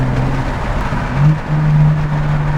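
A BMW G80 M3 engine holds a steady, loud drone with a brief swell of revs midway, heard up close and alone.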